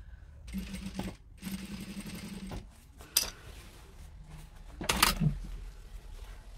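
An electric sewing machine backstitches through a thick wool jacket hem and lining, running in two sustained whirring bursts with a brief stop between them, then a few sharp clicks and knocks from handling the machine and fabric.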